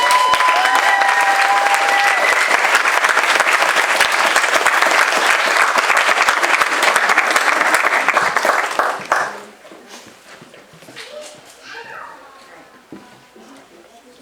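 A large audience applauds graduates at a PAFA art school commencement for BFA, MFA, certificate and post-bacc students; loud, dense clapping for about nine seconds, then it drops away to quieter room sound with a voice.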